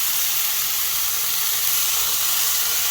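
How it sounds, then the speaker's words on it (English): Olive oil is sprayed onto chicken in a smoker, giving a steady, close hiss like steam or a spray that lasts the whole moment. No other sound stands out. "One more spritz of that olive oil just to keep it nice and browned out"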